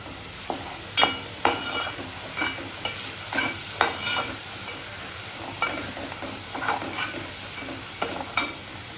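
Spice paste cooking in a pan for a mixed fish curry, scraped and stirred with a steady sizzle and repeated sharp clinks of a spoon against the pan, close and fairly loud, with no talking.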